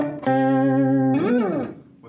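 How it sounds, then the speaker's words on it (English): An electric guitar runs through an octaver effect on a Boss Katana 100 MK1 amp, which adds a deeper note under the one being played. One note is held steady, then bends upward and fades, sounding close and distorted. "So this is an octaver that's giving you bassier notes"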